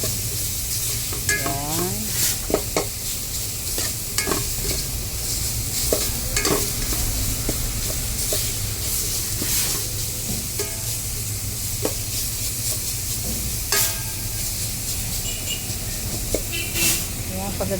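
Miso sautéing in a pan as the base for milkfish sinigang, a steady close sizzle and hiss with scraping stirs of a utensil throughout, while a voice talks over it now and then.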